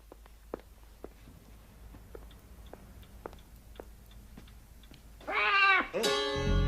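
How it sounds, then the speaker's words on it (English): A cat gives one drawn-out, fairly loud meow near the end, after soft scattered ticking and small sounds in an otherwise quiet room. "I didn't know you had a cat."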